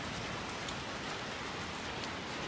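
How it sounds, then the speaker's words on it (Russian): Heavy downpour of rain hisses as a dense, even wash of sound, steady throughout and fairly quiet, with no voices. "ливень"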